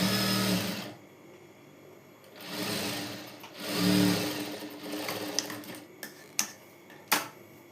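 Sewing machine stitching the front and back fabric pieces of a garment together in several bursts of rapid whirring, separated by pauses, with a few sharp clicks toward the end.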